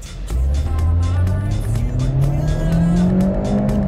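A 2020 car driven in sport mode accelerates hard at full throttle, its engine note climbing steadily in pitch through the gears, loud and close from inside the cabin, with a faint rhythmic ticking above.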